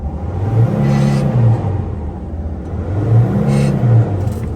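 A 2003 Dodge Sprinter van engine with a suspected leaky injector revs twice, rising and falling in pitch over a steady idle rumble, loud and close.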